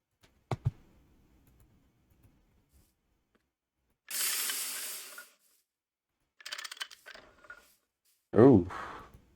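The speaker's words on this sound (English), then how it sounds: "Did I just blow out all that steam?" Steam vents with a hiss from boilers in the Minecraft modpack GregTech New Horizons. One loud rushing burst lasts about a second, with scattered clicks and short bursts of speech around it.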